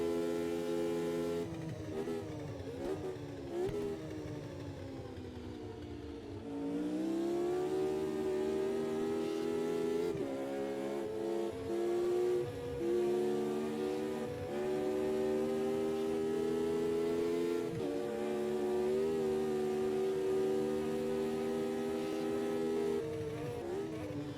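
Retro Formula Junior racing cars run on a circuit, engines droning loudly with rising and falling pitch as they accelerate, shift and pass, a continuous close roar with no voices.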